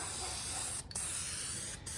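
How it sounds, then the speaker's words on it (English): An aerosol can sprays black primer paint in a close, steady hiss. The spray stops briefly twice before starting again. "We got a nice can of black primer, another can of universal black, and some spray in here."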